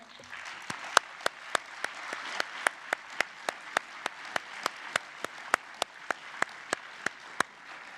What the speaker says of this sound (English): I think we can applaud them all once again, all together.